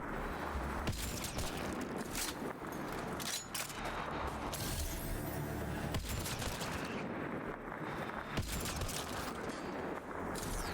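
Rapid gunfire in Mass Effect Andromeda punches through a wall in a series of loud bursts, automatic volleys broken by short pauses and heavy booms, with no talking.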